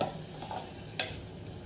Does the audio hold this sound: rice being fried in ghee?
yes